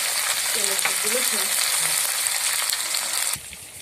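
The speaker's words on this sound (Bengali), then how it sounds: "এখন জিরে ভুনা হচ্ছে গরম মশলা সুন্দর গন্ধ হয়েছে" Cumin and garam masala frying in a pan at an outdoor picnic, a steady loud sizzle with faint stirring scrapes that suddenly drops away near the end.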